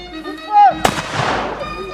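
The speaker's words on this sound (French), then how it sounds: "On se bouche les oreilles. Coup de feu." A black powder cannon fires at a medieval festival at Château Montvéran in Culoz: one sharp, very loud blast follows brief talk and ends in a long, rumbling decay.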